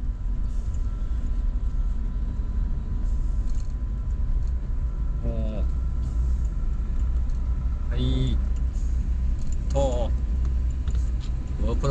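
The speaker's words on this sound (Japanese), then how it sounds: "車乗り出しましたね" A car pulling away, heard as a steady low engine and road rumble that runs throughout, with someone talking briefly over it now and then.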